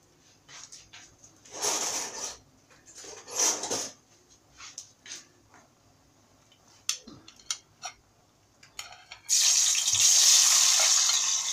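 Shish tawook chicken is lowered into a pan of hot oil, with bursts of sizzling and clattering handling sounds, then a loud sustained frying hiss at the end, close by and without speech.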